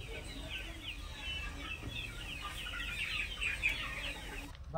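Chickens on a poultry farm cluck and chatter continuously at moderate distance, a busy overlapping flock with steady low background noise and no talking.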